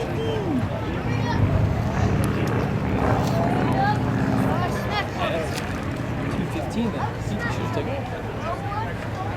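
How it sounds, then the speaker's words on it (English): A biplane on its final approach to landing at the Sun 'n Fun 2012 airshow, its engine a steady, fairly loud drone beneath an announcer's commentary and crowd murmur. "he executes his final approach to landing"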